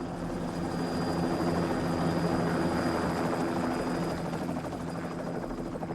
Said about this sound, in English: The helicopter creates a wind to turn the fire back on itself.